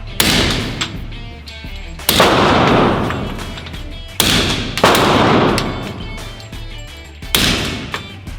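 Four loud, sharp pistol shots from a WWII German Luger ring out at an outdoor range, spaced roughly two seconds apart, each with a long reverberant tail that fades into the next.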